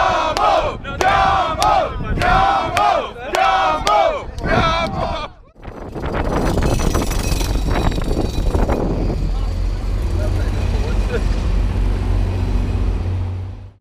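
Crowd cheering and shouting as a rally of cars passes through Romania on the Gumball 3000 in 2016, loud bursts of yelling first, then a dense roar of voices over engine rumble and low road noise.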